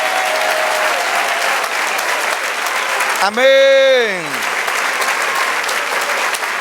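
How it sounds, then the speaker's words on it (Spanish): Church congregation clapping steadily with a wash of applause throughout, briefly broken by a sung or exclaimed voice rising and falling in the middle. "¡Dale aplauso!"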